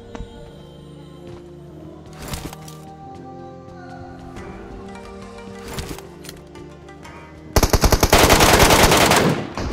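Rapid automatic fire from an MK rifle in PUBG Mobile, with scattered shots and game sounds early on, then a loud sustained burst near the end.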